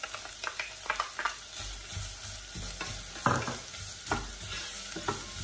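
Small carrot pieces frying in a pan with ginger and garlic for a spicy soup, with a steady sizzle under repeated scraping stirs of a spoon, close and moderately loud, no voices.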